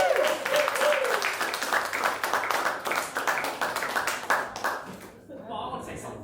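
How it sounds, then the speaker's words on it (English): An audience at a poetry book launch applauds in a dense, steady wash of claps that fades near the end, with a voice briefly audible at the start. "Can we have a round of applause for Ali?"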